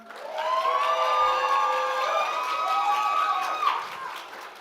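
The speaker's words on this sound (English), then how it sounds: "One more round of applause." Crowd at a Miss Indigenous Canada 2024 pageant cheering and whooping for a contestant, with bright shouts and applause swelling loudly and holding steady before easing off.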